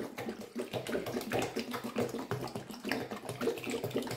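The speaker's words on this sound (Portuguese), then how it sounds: "vou tirar esse soro e vou botar água gelada aqui na base da múltipla. Vou adicionar aqui, gente, água. Água gelada, né?" Ice-cold water pours into the base of a multicooker as a continuous, fairly quiet splashing stream that runs unbroken throughout with no talk.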